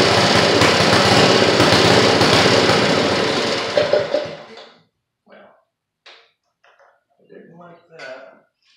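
A rototiller engine runs loud and steady for about four seconds after its carburetor idle was adjusted, then dies away, leaving scattered bursts of someone talking.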